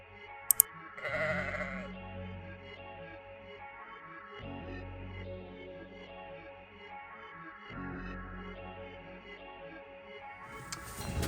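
Sheep bleat repeatedly inside a barn during pregnancy scanning, the calls drawn-out and overlapping with a reverberant hum of activity, moderately distant and fairly quiet throughout.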